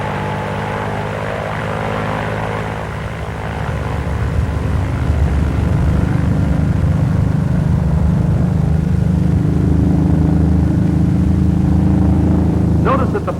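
An F4U Corsair propeller fighter's piston engine throttles up for takeoff, its droning roar swelling louder after a few seconds and holding steady at high power, with a voice audible over the engine.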